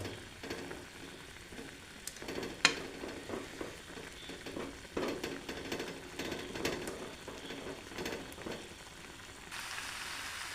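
Chettinad chicken coated in roasted masala sizzles steadily in a pan, with scraping stir strokes and clinks recurring throughout, close and fairly quiet with no talking.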